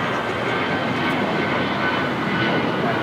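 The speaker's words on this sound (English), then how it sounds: "Cayman Airways 737 at max 9. I knew when I said that was wrong. Max 8, heading to Georgetown, flight 481." Cayman Airways Boeing 737 Max 8 taxiing at LAX, a steady broad jet-engine rumble and hiss that holds even and fairly loud from start to end with no talk over it.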